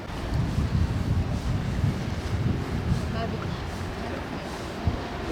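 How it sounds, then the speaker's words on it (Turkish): Wind rumbles and buffets against the microphone in uneven gusts on Atakum beach at a triathlon, with faint voices in the background. "güzel rüzgar çıkıyor"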